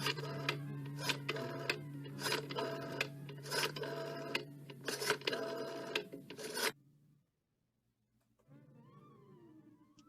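Old-time radio drama effect of a telephone being dialed: a rapid series of mechanical clicks and ticks in rhythmic bursts, then a sudden cut to near silence before a faint tone begins.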